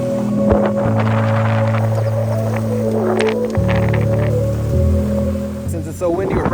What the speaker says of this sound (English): it's kind of windy today also